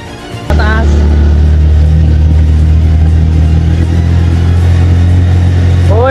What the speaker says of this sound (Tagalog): Uy, pinakalas ng makina.